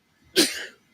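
A single short sneeze bursts out close by, sharp and loud, then trails off within about half a second in otherwise quiet surroundings.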